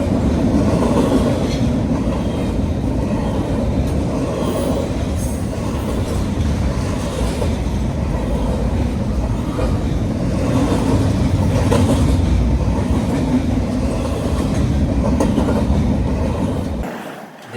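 A long freight train rolls steadily past a platform at Fullerton Station, its wheels and cars producing a continuous loud, low rumble with faint clickety-clack rhythm throughout, with no pauses.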